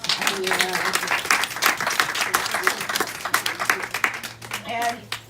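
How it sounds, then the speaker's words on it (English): Crowd applause for an honoree at a 25th-anniversary CancerCare event, with steady clapping, cheers and voices layered over a low hum, swelling and dipping across several seconds. "let's give her a big round of applause"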